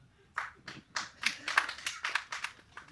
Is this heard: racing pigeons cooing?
no